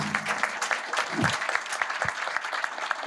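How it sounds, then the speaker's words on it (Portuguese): Audience applause for the panelists at a Brazil–China forum, a steady patter of clapping hands filling the room for about three seconds, with a brief low voice murmur partway through. "uma salva de palmas para os painelistas"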